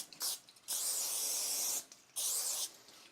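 Cooking spray hisses from an aerosol can onto a pizza pan in two bursts, a short spray followed by two longer ones, close and fairly loud.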